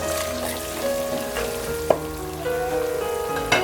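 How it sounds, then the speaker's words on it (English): Fried onion and spices sizzle in a pan as they are mixed, a steady crackling hiss broken by a few sharp scrapes and clinks of the stirring utensil. "Now that our onion is a bit fried, we're gonna throw in all our spices in there"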